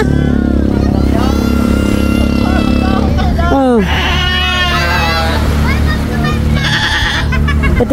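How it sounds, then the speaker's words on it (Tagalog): Goats at a farm hut in Ligaan, Gasang, Mabini, Batangas give several wavering, nasal bleats around the middle and end, rising over a steady engine drone with people talking nearby. "Ito yung kambing natin."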